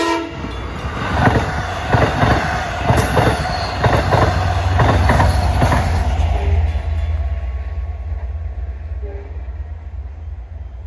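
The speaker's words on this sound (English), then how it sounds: "Approaching is train 45, Speonk to Jamaica." A westbound Long Island Rail Road train, Speonk to Jamaica, passes near Bayshore with autumn leaves around: loud rumbling wheels with rhythmic clickety-clack over the rails and a brief horn blast, the roar fading toward the end.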